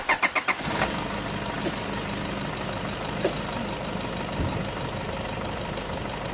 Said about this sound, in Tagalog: pwede mo na ngayon i-start itong makina